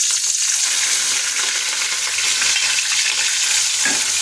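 Onion paste fries in a pan for spinach paneer with a loud, dense, continuous hiss and crackle, heard up close without a break.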